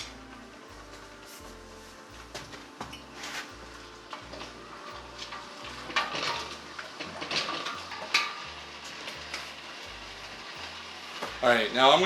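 Sugar being stirred into apple pie moonshine mixture with cinnamon in a hot pot, soft scraping and clinking of a spoon against the metal over a low bubbling background and a steady rhythmic low thump.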